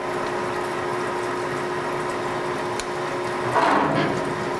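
Drilling machine hum with a steady drone, then a rush of coolant flow surges in near the end as it switches on, close and moderately loud.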